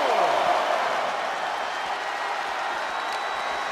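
Arena crowd noise in the WWE 2K23 wrestling video game, a loud, steady wash of cheering and applause that holds throughout, with a commentator's voice faintly mixed in.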